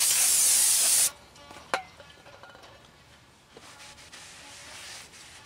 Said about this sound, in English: we're back with the ceremonious cleaning of the rotor